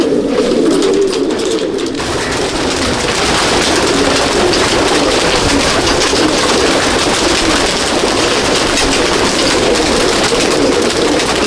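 Female pigeons released together from a loft flutter and coo in a steady, dense mass of wingbeats and bird noise that runs the whole time, loud and close, with no talk.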